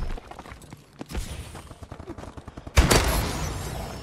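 Sniper rifle fire in the video game Call of Duty: Advanced Warfare: a run of sharp, rapid clicks and pops builds to one loud, heavy shot near the end, followed by a ringing decay.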